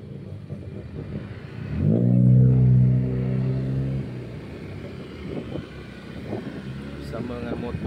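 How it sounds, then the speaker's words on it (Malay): A motorcycle engine revs up loudly for a couple of seconds, then settles to a lower idle rumble while people talk nearby. "Bersama dengan motor baru Aiman."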